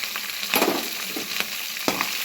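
Green chillies and ginger pieces fry in hot oil for coconut rice, giving a steady sizzle broken by a few brief louder bursts as the pan is stirred.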